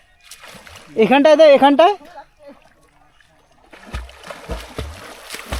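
Boys bathe and splash in village water in India, with several sharp splashes toward the end, heard from nearby after a man's brief speech.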